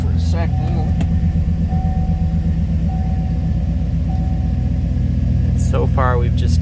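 A Chevy Tahoe with a no-crank fault and an erratic instrument cluster idles with a loud, steady, low engine rumble, close by, with brief voices over it near the start and end.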